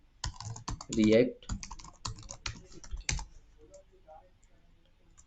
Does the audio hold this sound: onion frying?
no